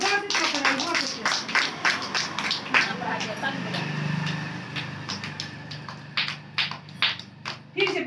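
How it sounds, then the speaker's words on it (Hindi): Children clap their hands loudly in quick bursts of claps with pauses between, mixed with voices talking and chattering nearby. "ताली बजा दो जोर से मेरी पार्टी के लिए"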